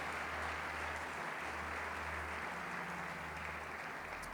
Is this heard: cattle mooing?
no